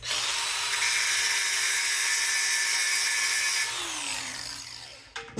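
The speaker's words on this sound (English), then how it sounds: "Get the grinder out. Give her a test here." An angle grinder bites into a big, thick piece of aluminum with a loud, steady high-pitched whine. It then eases off and spins down near the end, followed by a few clunks.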